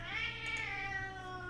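A cat lets out a single drawn-out meow, fairly close and moderately loud, with a harmonic, slightly wavering tone over a low background hum and no speech.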